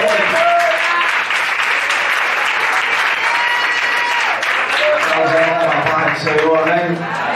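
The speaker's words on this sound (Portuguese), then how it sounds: "Aplauda Jesus nessa noite." Applause from a Pentecostal church congregation at a night vigil fills the space with steady, dense clapping, while speech and voices carry over it throughout.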